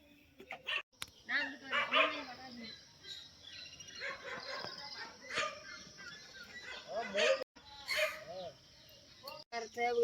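A dog barks several times in a palm-grove village setting with goats and fowl nearby, the barks scattered through the clip amid other animal calls and background activity.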